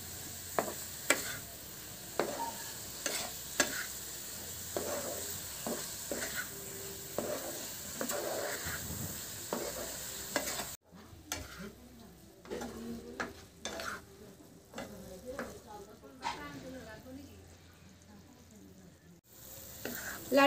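Semolina is stirred into hot sugar syrup for motichur laddu, a spoon scraping the pan in a steady, close rhythm over a soft sizzle, with a quieter stretch midway.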